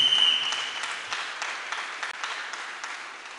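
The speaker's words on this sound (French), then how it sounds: "On acclame le Seigneur Jésus-Christ" Congregation applauding in a church, a dense wash of clapping that swells at the start and holds steady for a few seconds, moderately loud and without talk.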